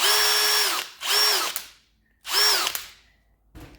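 An Ozito 18V brushless hammer drill spins up in two separate bursts, each a loud, steady, high whine lasting about a second, followed by a short click at the end.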